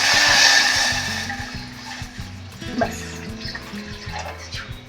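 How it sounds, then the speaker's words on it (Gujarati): Water is poured into a pot on a gas stove for kulhad chai, a loud splashing rush in the first second or so that fades into a low, wavering background hum. "તો થોડું અંદર પાણી ઉમેરી દઈએ"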